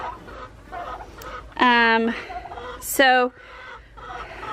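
Chickens in a homestead coop cluck and give two loud, drawn-out squawking calls close by, while a person talks quietly underneath.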